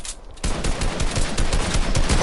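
Sustained rapid gunfire in a video game, a dense, loud stream of shots that continues without a break after a short quiet opening.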